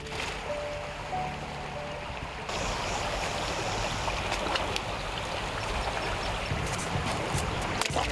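Water rushes steadily in a stream in the Puli'ishin community, a continuous close-up flow that turns louder partway through and keeps running without voices.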